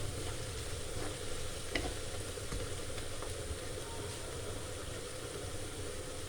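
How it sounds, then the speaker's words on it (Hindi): Whole spices frying in onions in a pan for chicken karahi, a steady soft sizzle with occasional faint crackles and a few light clinks, fairly quiet and alone. "फिर इसको हल्का सा फ्राई करेंगे प्याज में"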